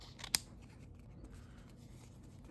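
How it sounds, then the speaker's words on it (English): Scissors trim the edge of a paper craft piece with a single crisp snip near the start, followed by a quiet, low room hum. "I'm going to trim a little bit on the side here."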